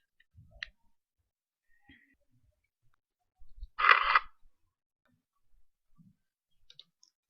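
Sparse computer mouse clicks in a quiet room, a few faint isolated clicks with one louder burst of clicking near the middle, no talking.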